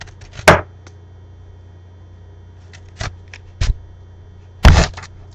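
A knife cuts through an onion into rings on a board at home while making pepper steak and rice, giving a few sharp, separate chopping knocks close by with quiet pauses between them.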